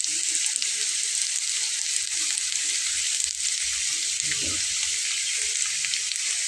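Potato-stuffed flatbread fries in oil in a pan, giving a steady close hiss and sizzle that runs unbroken throughout with a few faint soft knocks, and no voices.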